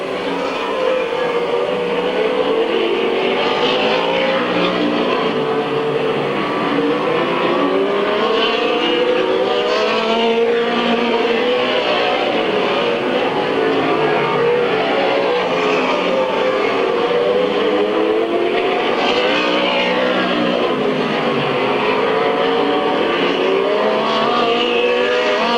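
Race cars lapping Midvale Speedway during a 1996 race, a continuous loud engine roar with rising and falling whines as the cars pass, no clear talk.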